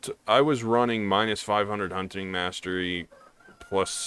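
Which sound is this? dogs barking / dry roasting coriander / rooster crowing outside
rooster crowing outside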